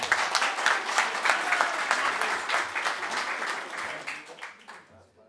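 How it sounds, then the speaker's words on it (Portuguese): An audience at a book discussion session applauds steadily with dense clapping, then the applause gradually fades out toward the end. "Eu queria uma salva de palmas, que é o autor do livro."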